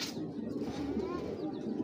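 A racing pigeon, a grizzle-coloured bird from a seller's loft, coos close by in a low throaty murmur, soft and steady, with a voice faint in the background.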